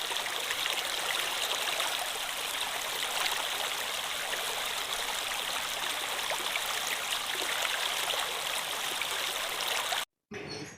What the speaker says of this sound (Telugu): ఇది ఒరిజినల్ వాటర్ ఫ్లో సౌండ్ అన్నమాట.